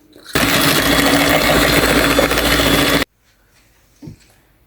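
An egg being whisked into a cookie dough mixture gives a loud, steady whirring that runs for about three seconds and then cuts off, leaving near silence with one faint knock.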